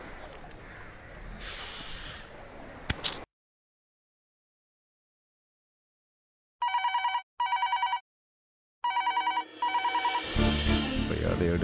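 Telephone bell ringing in short bursts after a stretch of silence, with louder noise and a voice before and after the rings.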